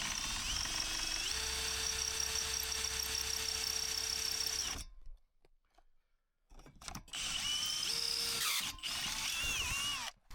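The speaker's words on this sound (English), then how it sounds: "I'm going to use the auger as my guide" Hand-held power ice auger boring through lake ice for winter fishing, a loud steady motor whine that cuts out midway, falls silent for a couple of seconds, then restarts and runs again.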